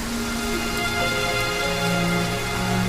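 Steady heavy rain falls without a break, a dense even hiss that holds at the same level throughout, with no voices.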